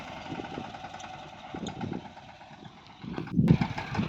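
A mini tractor engine chugs steadily nearby on a farm with a low, uneven rumble that grows a little louder toward the end.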